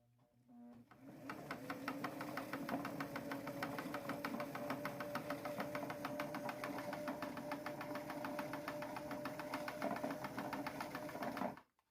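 A vintage sewing machine winding a bobbin runs with a steady, fast mechanical whir and rhythmic clatter, holding an even pace for about ten seconds before stopping abruptly.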